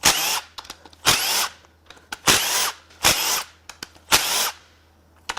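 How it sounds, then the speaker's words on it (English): Power tool unbolting the bottom of a Mitsubishi 4B11T engine block from an Evolution: five loud, close bursts of whirring impact-gun drive, each about half a second long, with short clicks and ratchet taps between them and no talking. "Next, we're going to unbolt the bottom of the block."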